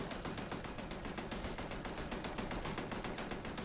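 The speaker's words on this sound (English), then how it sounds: "You hear that turret just firing off." Rapid, continuous automatic turret gunfire from the video game Starfield, a steady stream of sharp repeated shots at even rhythm, loud and close, with no talking.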